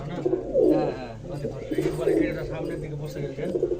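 Several pigeons coo in soft, rolling repeated calls close by outdoors during a pigeon-flying event, with a person talking over them.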